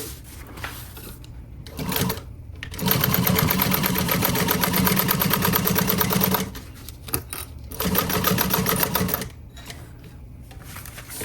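A sewing machine stitches a pool tote bag in rapid, even bursts, stopping between runs with quieter pauses of fabric handling, close and loud with no talk.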